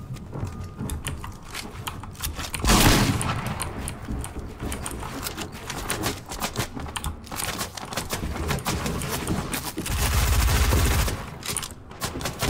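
Rockets exploding in the video game Fortnite, dense and continuous rapid booms and crackling blasts throughout, with loud bursts near the start and again toward the end.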